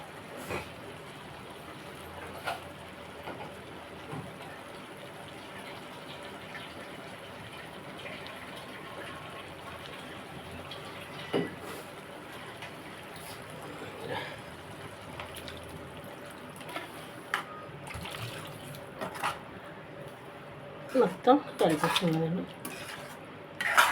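Water pours into a pot of prawn and brinjal curry with a short gushing splash near the end, with faint utensil clinks and quiet kitchen noise before it.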